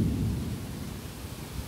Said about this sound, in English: Calm down, Thunderstorm. Calm down. You're getting a little bit too severe.